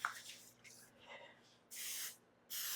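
Cooking spray is shot into a 9 by 13 baking pan for a chocolate zucchini cake: two short, close, hissing bursts near the end, after a stretch of quiet talk.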